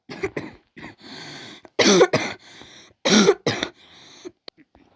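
Several harsh coughs and throat clearings come in bursts, close and loud, with two strong fits in the middle, during a video game battle.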